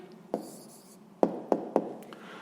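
An answer being written down on paper during a 6th-grade maths exercise, a faint scratch followed by a few quick pen taps in a short cluster, close and quiet, with no talking.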